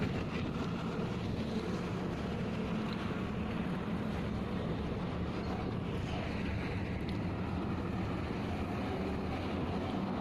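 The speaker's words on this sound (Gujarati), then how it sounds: "વાદળું આવ્યું છે, વરસાદ ચાલુ થઈ ગયો છે." Steady rain falls with gusting wind at a petrol pump in Bengaluru during monsoon weather, a constant broadband wash buffeting the microphone for the whole stretch with no voices.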